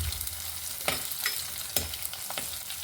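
Garlic, ginger, green chillies and halved shallots being stirred in hot oil for a Kerala river fish curry, a close steady sizzle punctuated by several sharp scrapes of the spoon, no talking.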